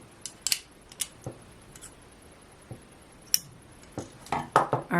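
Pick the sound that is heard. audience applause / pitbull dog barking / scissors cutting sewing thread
scissors cutting sewing thread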